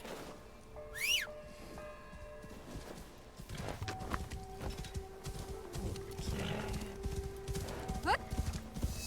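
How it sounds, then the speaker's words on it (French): A horse's hooves clip-clop in Assassin's Creed Shadows, with a whinny near the start and steady galloping under game music, while someone talks in French over it. "Je vais prendre le cheval."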